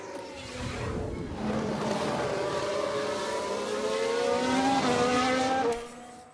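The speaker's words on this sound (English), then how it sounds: "Just a bit too heavy on the brakes, and they've locked up." Race cars in the F1 Manager 2022 video game lock their brakes, producing a loud, sustained tire squeal with rising and falling tones over steady engine roar that cuts off near the end.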